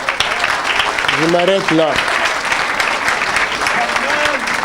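An audience in a hall claps steadily as a dense wash of applause throughout, while someone speaks briefly over it.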